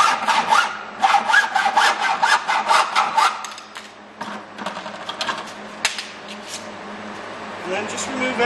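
Rhythmic rasping strokes of a blade cutting a door weather stripping piece with metal and a rubber gasket, quick repeated bursts at first, then sparser and quieter cuts, close up.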